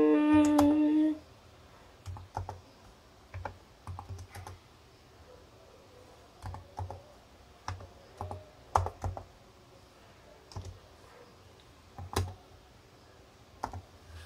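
Typing on a computer keyboard: brief bursts of close, light key clicks spread across the clip with quiet pauses between them. A short tone sounds at the very start.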